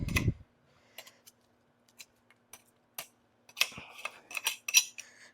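Blueberries being finely mashed by hand for a tiny batch of jam, with no pectin. Sparse light clicks and taps of a utensil against the container, a soft thud at the start and a denser run of clicks toward the end, close and with no talking.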